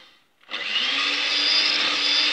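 An electric mixer beating fondant starts up after a short quiet moment and then whirs steadily and loudly, a constant motor drone that holds to the end.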